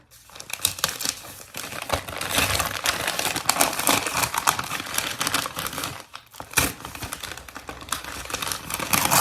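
Christmas wrapping paper crinkles and tears in a steady stretch of rustling, close up and fairly loud, with a brief pause partway through.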